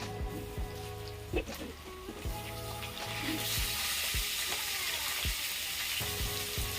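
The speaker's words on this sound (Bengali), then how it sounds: "তারপর আমি বেগুনটা দিয়ে আবার ভেজে নিবো" Eggplant frying in hot oil after potatoes for a Bengali fish curry, a continuous close sizzle that grows denser and brighter halfway through, punctuated by regular spoon scrapes and taps against the pan.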